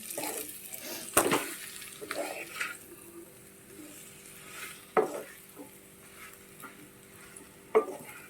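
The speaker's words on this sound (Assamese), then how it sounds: "এইখিনি ধুনীয়াকৈ লৰাই থাকিম" Tamarind pickle being stirred in a pan, a quiet scraping and swishing with a few sharper clinks at irregular moments, close and fairly faint, with no talking.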